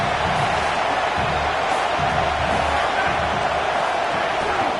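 A college football stadium crowd roars steadily during ASU versus BYU, a broad continuous wash of noise at a loud, even level throughout.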